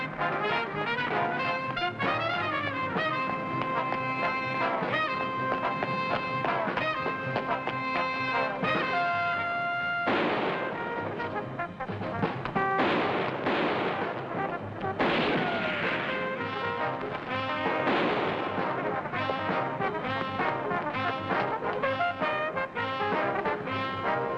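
Gunfire from a 1959 television crime drama: several sharp, loud shots burst out in spaced clusters over a swelling orchestral score.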